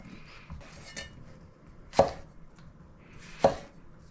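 A knife chops through tomatillos on a cutting board, splitting them in half: two sharp, close cuts stand out against softer knife and board contact, with no talk.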